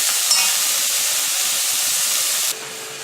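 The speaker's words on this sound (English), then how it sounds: "saute the vegetables for around 5 to 7 minutes until the vegetables is cooked" Vegetables for a veg momo filling sautéing in a pan give a steady, close hiss and sizzle that drops to a quieter level near the end, with no talking.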